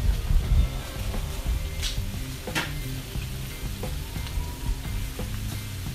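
Half a cabbage, Brussels sprouts and onions sizzle steadily on a Blackstone griddle alongside sausages, a dense, even frying hiss with faint scrape and clink sounds.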